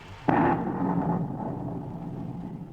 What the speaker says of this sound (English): Doggone, it's thundering, too.